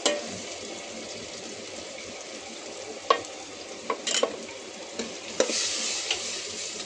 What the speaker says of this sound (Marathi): कांदा आणि ढोबळी मिरची दोघे सोबत चांगलं फ्राय करायचं.